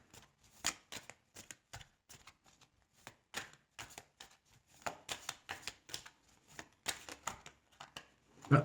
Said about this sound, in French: on va utiliser des cartes pour ce monsieur Dupont-Lajoie